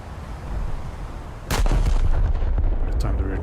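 Battleship turret salvo in a naval video game: a loud booming gun blast erupts over a low rumbling background, followed by a few further thuds and crackles as the firing echoes on.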